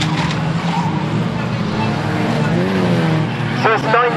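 Race cars at Standlake track skid and spin off, one running wide on two flat tyres, with loud engine roar and tyre scrubbing under constant commentary, then sharp squeals near the end.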